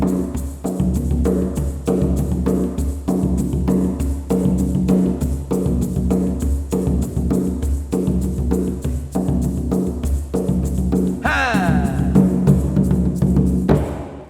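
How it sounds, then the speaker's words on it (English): A steady, driving Quembe hand-drum rhythm repeats in even beats with a low booming pulse and sharp slaps, a brief metallic rattle near the end. "So this is the sound of Quembe."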